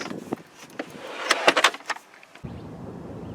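The sliding cargo deck of a 2021 Toyota 4Runner, rattling and clunking in a series of quick knocks and a scraping slide, ending in a solid thud, close up with no speech.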